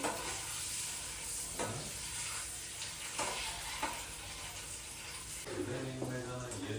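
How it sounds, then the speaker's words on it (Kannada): Spices with chili powder and turmeric frying slowly in oil in a pan, a steady soft sizzle with occasional scraping stirs, close and continuous. "ಪಾಡಿಗೆ ನಿಧಾನಕ್ಕೆ ಇವಾಗ ಫ್ರೈ ಆಗ್ತಾ ಇದೆ."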